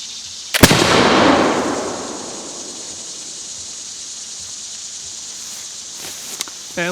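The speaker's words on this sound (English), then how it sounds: "we're going to try that with number 5 shot," A flintlock smoothbore gun loaded with two ounces of number 5 shot fires once outdoors at a target 30 yards away, a sharp loud crack with a sizzling whoosh and a long rumbling decay, followed by quiet outdoor background.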